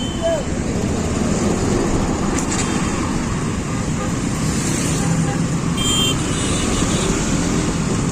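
A KTM Duke motorcycle rides along the road, its engine rumble and wind roar steady and close throughout, with a voice speaking briefly over it.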